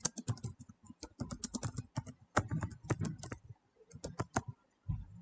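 Quick, uneven bursts of computer keyboard typing, close and fairly quiet, with brief pauses between runs of keystrokes and no talking.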